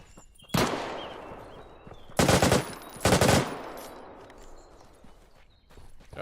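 Gunfire from the video game Deadside: three sharp, loud shot bursts, one early and two close together a second apart, each with a ringing tail over a quiet ambient background.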